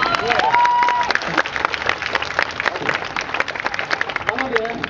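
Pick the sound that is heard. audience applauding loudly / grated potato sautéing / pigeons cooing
audience applauding loudly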